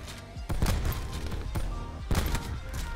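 Rapid gunfire from the video game Modern Warfare, loud bursts of shots with sharp peaks near the start, middle and end, layered over dense game sound.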